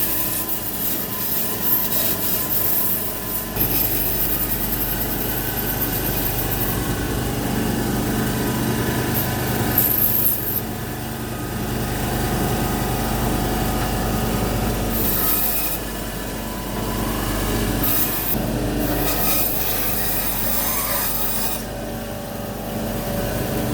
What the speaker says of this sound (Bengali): এটা একটা সো মেশিন ধরাই চলে, দেখেন কত সুন্দর শক্ত শক্ত মাছ